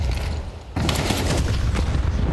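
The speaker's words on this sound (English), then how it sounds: "Oof, nice grenade." A grenade explosion in a professional Counter-Strike match at IEM Cologne 2024, a sudden loud boom cutting in midway and followed by a dense crackling rumble of gunfire and debris.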